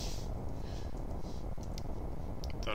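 Rapid, steady keyboard clicking fills the whole stretch, close up, with light irregular taps running continuously and no voices.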